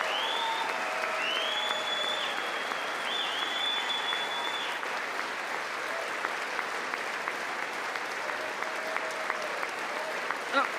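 Applause from the audience at the 2026 State of the Union address, a steady wash of clapping throughout, with a voice speaking over it briefly near the start.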